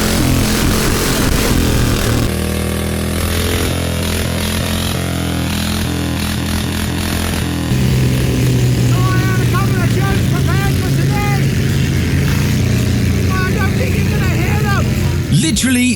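Modified Thai rice tractor engine runs loud and close, a harsh rattling drone whose pitch rises and falls as it revs, continuous throughout with no talk.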